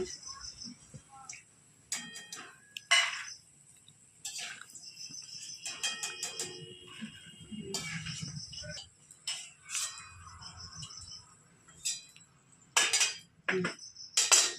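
A utensil scoops fried peanuts from a pan while making chira bhaja: scattered metallic clinks and scrapes against the pan, close and intermittent, with quiet gaps between them.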